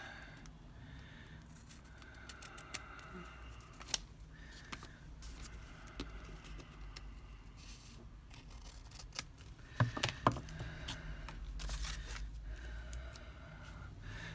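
Scissors trim an excess fabric tag on a stuffed baggy envelope pocket, with quiet, sparse snips and a few small clicks close by over a soft background.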